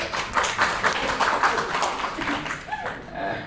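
Scattered, uneven clapping from a seated audience at a university rector's speech, a fairly close ripple of hands that thins toward the end.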